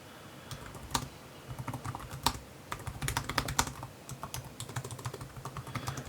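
Typing on a Dell Inspiron 14 2-in-1 laptop keyboard with plastic keycaps and plastic chassis, close irregular bursts of soft clicks with a few louder key strikes, no voices.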